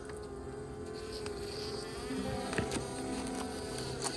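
Honey bees buzzing steadily inside a hive set within a cavity wall, a dense continuous drone that holds at a close, moderate level throughout.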